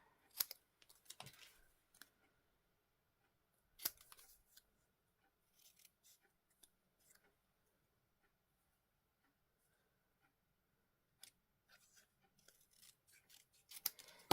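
Scissors trimming card paper for a handmade autumn-leaves greeting card: a sparse series of close, crisp snips and small clicks separated by quiet pauses, with no voice heard.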